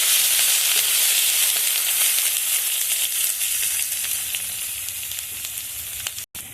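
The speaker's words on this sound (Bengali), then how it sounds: "একটা পেঁয়াজও দিয়ে দিচ্ছি একটু রসুন কুচি দিয়ে দিচ্ছি একটু হালকা করে নেড়ে নেব" Sliced onion and chopped garlic sizzle steadily in hot oil in a pan while being stirred, a loud, close, continuous frying hiss with faint scraping and no speech.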